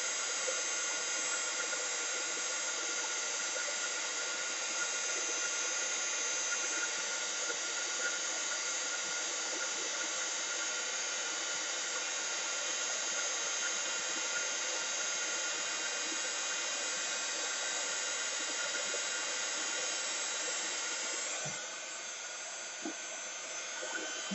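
Embossing heat tool blowing hot air over embossing powder on a personalised bookmark, a steady loud airy whir with a high whine that runs without pause and drops off near the end.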